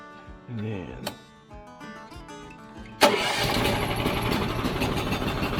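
After a few clanks and a person talking, a portable sawmill engine with the choke on catches and starts, then settles into a loud, steady running roar.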